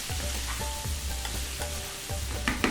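Snake gourd and green chilies fry in a hot pan, giving a steady close sizzle broken by a few soft stirring knocks, with no talking.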